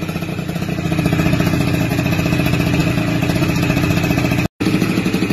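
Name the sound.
motorcycle engine popping and crackling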